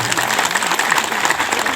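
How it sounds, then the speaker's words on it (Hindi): A crowd at an outdoor inauguration gathering in Ranchi claps loudly and continuously, a dense, close wash of applause that stays strong for the whole moment. "चले पर ताली बजा दीजिए जोर से"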